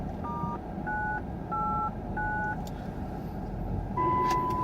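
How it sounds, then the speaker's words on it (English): A 1 kHz test tone comes through a radio receiver in a car on a simulcast drive test, heard as a series of short steady beeps at slightly shifting pitches, ending in a longer tone over faint road rumble. "So I'm going to put in a 1K tone"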